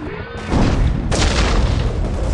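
A high-explosive charge detonates in the video game Enemy Territory: Quake Wars, a loud, heavy boom whose broad roar swells and keeps rumbling to the end, with no talk.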